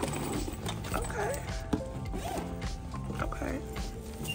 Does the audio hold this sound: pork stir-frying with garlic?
no